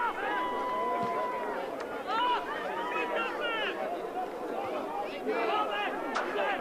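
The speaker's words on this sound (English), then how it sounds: "The home crowd go absolutely crazy here at Green Gully Reserve" A home crowd roars and chants wildly at Green Gully Reserve during a 2006 Victorian Premier League football match against South Melbourne, a dense, sustained wall of shouting voices with surging peaks, a commentator's voice running on top.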